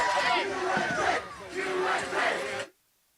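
A big crowd at a Page High School football game roars and cheers in two loud surging waves, voices blending into a sustained shout before cutting off abruptly.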